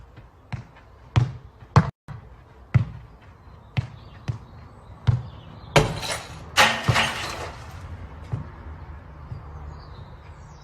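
A man strikes a wall made mostly of glass, a series of sharp, close, loud bangs at uneven intervals, followed by a denser cluster of rattling impacts and crackling.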